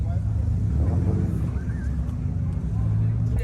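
A loud modified Volkswagen Beetle engine at a car meet gives off a heavy, low, rumbling drone that continues steadily, with some speech faintly mixed in.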